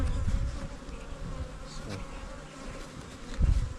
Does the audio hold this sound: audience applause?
no